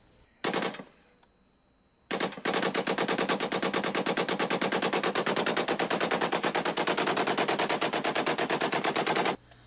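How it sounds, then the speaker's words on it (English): A rifle fitted with a bump stock fires one loud shot, then after a pause lets off a long, continuous burst of rapid gunfire lasting about seven seconds, close and loud with no talking. "A bump stock is a device that turns a lawful firearm into a machine that is capable of an extremely high rate of fire."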